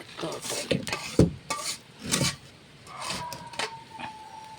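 A cooking pot is set down on a stove with clanks and scrapes of metal and wood, a few sharp knocks in quick succession, close and fairly loud in a quiet kitchen.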